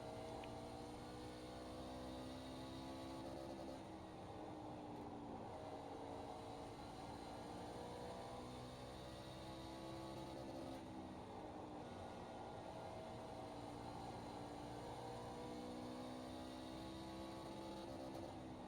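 A C-Fixed truck engine in the iRacing sim lapping Bristol: a steady, loud, continuous engine drone with rising and falling pitch sweeps as the truck accelerates down the straights and eases off into the corners, with no talk.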